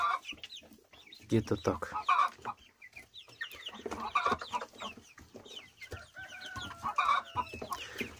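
Chickens cluck in a backyard flock that includes a large crooked-legged hen and new chicks, with repeated close clucks and calls alongside a person talking.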